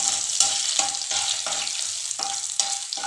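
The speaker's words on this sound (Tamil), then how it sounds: "நெய் சூடு வந்துட்டு முந்திரி பருப்பு போட்டாச்சு." Cashew nuts sizzle in hot ghee, a bright close frying hiss broken into short bursts by quick rhythmic stirring strokes, with no talking.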